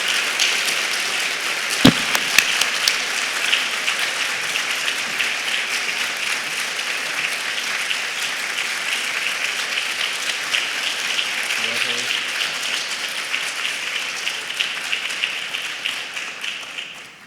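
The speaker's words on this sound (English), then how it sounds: "Let's give her a round of applause." An audience at a university award ceremony for distinguished service in international education breaks into sustained applause, a dense, steady roar of clapping lasting well over fifteen seconds.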